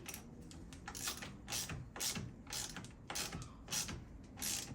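Ratchet or wrench clicks in short repeated bursts while the battery terminal clamp is tightened on a Hyundai i10, close and moderately quiet, with no talking.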